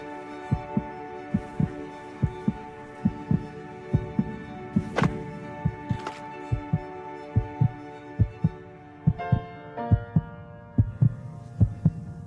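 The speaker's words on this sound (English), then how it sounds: "This song was created with heartbeats of children in need." Children's heartbeats set into a song, with regular low thumping double beats repeating steadily over a sustained musical drone and tones that shift partway through.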